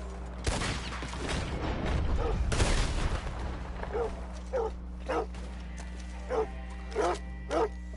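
Dog barking amid gunfire in the Red Dead Redemption 2 video game: a dense burst of shots and noise early on, then several distinct barks spaced out against a steady low hum.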